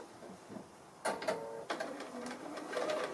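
A sewing machine stitches a tree applique in a few short, quiet mechanical bursts, starting and stopping in a calm room.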